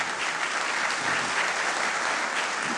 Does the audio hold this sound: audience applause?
yes